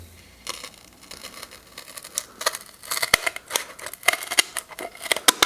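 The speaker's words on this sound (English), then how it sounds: "Cut along the line there." Scissors or a craft knife snipping along a marked line in card or foam for tabletop terrain building, a series of crisp close cutting strokes that grow denser and louder toward the end, with no talking.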